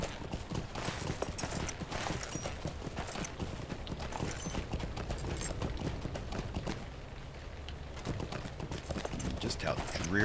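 A horse's hooves clip-clop in a quick, steady gallop rhythm in the game Lord of the Rings Online, continuing throughout at moderate level.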